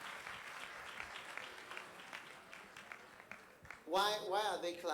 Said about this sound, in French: Pourquoi est-ce qu'ils acclament?